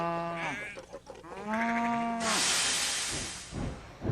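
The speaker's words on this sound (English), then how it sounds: "At Farmer McColl's farm, there are cows and sheep and chickens." Sheep bleat and a cow lows in turn, followed by a noisy rushing burst, all fairly close.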